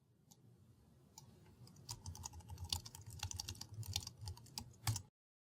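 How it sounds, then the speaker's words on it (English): Quick, irregular keystrokes on a computer keyboard clatter steadily for about five seconds, close and fairly loud, with no talking. "First, we'll type in some new text, such as the sentence, "Look what I can do.""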